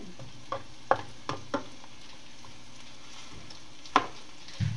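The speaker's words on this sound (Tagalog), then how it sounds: "Pinapupula-pula ko muna yung bawang. At saka ito sibuyas." Garlic and onion browning in a pan, a faint low sizzle broken by several sharp utensil clinks and scrapes as it is stirred, quiet and close with no speech.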